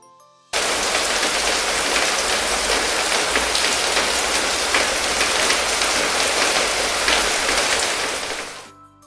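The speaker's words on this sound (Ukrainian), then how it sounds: "Так, це дощик. Ось послухайте, як він співає." Steady rain pours down evenly and continuously at close range, a dense hiss of drops with no voices, fading out at the very end.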